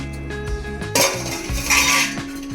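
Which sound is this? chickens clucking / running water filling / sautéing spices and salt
sautéing spices and salt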